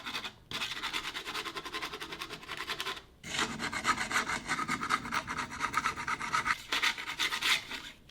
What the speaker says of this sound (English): I'm going to take my little scraper right here, and I'm not scraping hard